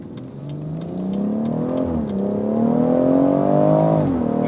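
A BMW M140i engine revs under load while driving, its loud, steady drone rising and falling in pitch as the car accelerates, with no talking over it.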